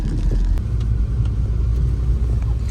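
An Audi car driving on snowy roads during a blizzard, its steady engine and road rumble loud and close throughout, with no talking.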